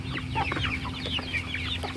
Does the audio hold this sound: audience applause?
no